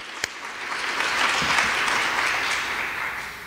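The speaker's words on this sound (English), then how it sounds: "give these folks a round of applause" An audience at a university faculty achievement award ceremony applauds for the award recipients, a moderate, even patter of many hands that swells slightly and then holds steady throughout, with a single sharp knock near the start.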